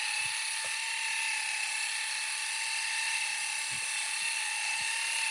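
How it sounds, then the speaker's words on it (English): A car paint polisher spins on a pad with light pressure, giving a steady, close, high-pitched whine that holds evenly throughout, with a few faint low knocks underneath and no talking. "just kind of letting the polisher do the work"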